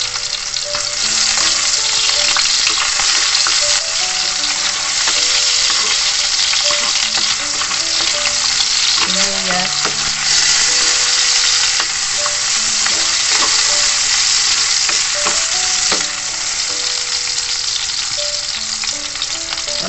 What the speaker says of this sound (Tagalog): Painit na ako ng mantika. Maggisa na tayo